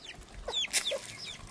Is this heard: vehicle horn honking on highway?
no